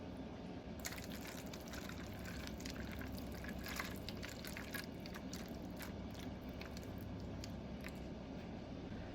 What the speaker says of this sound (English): So by pouring the water in these holes in the middle, it goes straight down.